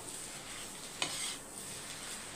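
Potato masala gets stirred in a pan over a soft continuous sizzle, with one sharp clink of the spoon against the metal partway through, quiet and close.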